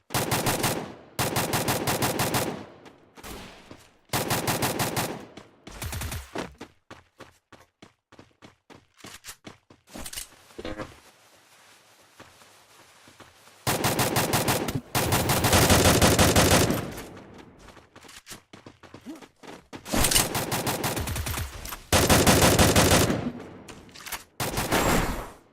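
AN94 assault rifle fire in a Free Fire Clash Squad match, sounding as loud sustained automatic bursts that start and stop repeatedly, with a few scattered single shots and footsteps in the quieter gap partway through.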